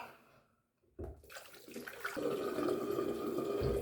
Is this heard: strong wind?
no